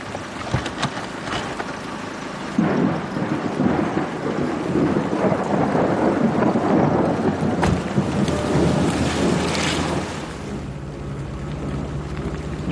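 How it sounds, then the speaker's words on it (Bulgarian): Heavy rain pours in a thunderstorm, with a broad steady roar and a rumble of thunder swelling mid-way before easing, no voices present. "Глупаво е да стоите така в този дъжд."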